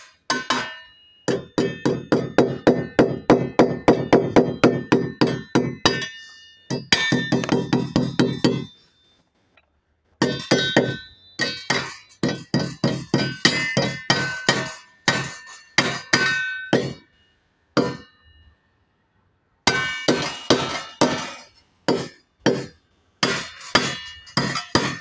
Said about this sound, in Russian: И сейчас будем вбивать анкера.